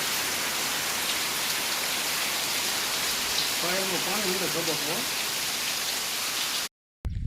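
Constant dense hiss of water spraying steadily from sprinklers running close by in a farm field, with a brief voice partway through before the sound cuts off.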